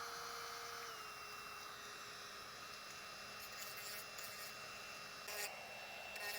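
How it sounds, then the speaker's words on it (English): A Dremel rotary tool sanding a wooden cardinal carving gives a faint, steady high-pitched whine, its pitch dipping slightly as it bites into the wood, with brief scratchy bursts of grinding. "now I am going to do some sanding with the Dremel"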